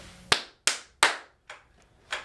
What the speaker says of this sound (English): We'll do the claps.